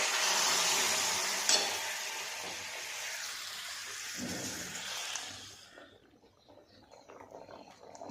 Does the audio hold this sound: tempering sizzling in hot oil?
yes